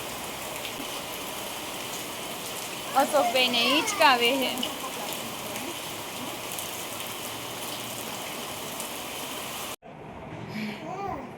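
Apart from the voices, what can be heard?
rain falling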